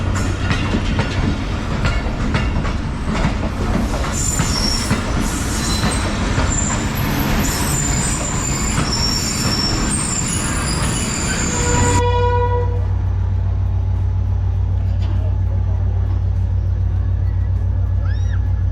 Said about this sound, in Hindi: तो जनाब 17 अप मिल्लत एक्सप्रेस का डिपार्ट हो चुका है।